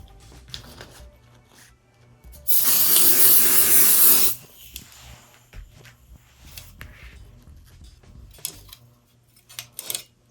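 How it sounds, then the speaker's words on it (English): Adhesive spray bursts in one steady hiss lasting about two seconds, close and loud, applied to embroidery stabilizer clamped in a hoop, with quiet handling clicks before and after. "I'm gonna spray just a little bit."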